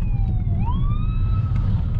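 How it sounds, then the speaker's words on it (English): An ambulance siren sweeps upward in clear tonal wails over the low rumble of city traffic and a car engine, heard from inside a moving BMW 320d E92 coupe. "Always leave the ambulances to go."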